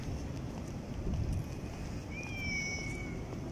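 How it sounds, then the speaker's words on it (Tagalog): Several cats meow outdoors in the grounds of a residential condominium, one drawn-out meow rising and falling clearly over steady wind and background rumble. "parang madaming pusa dito"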